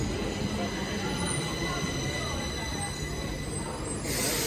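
A train pulls into a station, a loud, constant rumble of rolling stock with high wheel squeal running the whole time and no talking.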